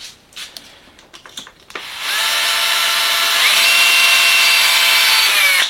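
A drill with a 3 mm bit bores into metal parts of an X-Maxx RC car, starting after a few light taps and clicks with a steady high-pitched whine that holds and rises slightly in pitch.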